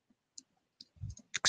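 Computer mouse clicking through a font download in design software, with several sharp, close clicks coming in irregular pairs and one soft thump, no voices.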